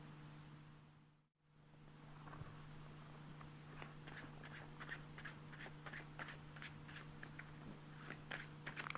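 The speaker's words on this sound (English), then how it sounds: "It's called the Hindu shuffle." A deck of playing cards handled in a Hindu shuffle, soft quick papery flicks and slides repeating in a steady rhythm, faint and close against a low background hum.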